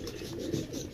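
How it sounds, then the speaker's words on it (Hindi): Fancy pigeons such as German Beauty and Israeli breeds cooing in a loft, a low continuous burbling murmur from several birds, close and moderately loud. "अब बहुत अच्छे अच्छे कबूतर, रंगीन कबूतर है इसमें माशाल्लाह से"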